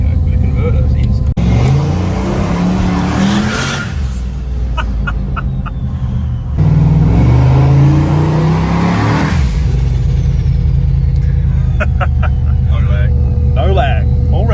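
A Holden Monaro with a Powerglide transmission and torque converter drives along, its engine note steady and close throughout, with people talking over it.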